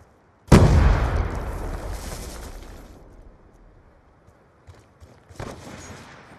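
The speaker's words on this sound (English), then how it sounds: "Grenade!" A loud, close grenade blast in Black Ops 2 booms and rolls away over a couple of seconds, followed by a few scattered later gunshots that grow louder toward the end.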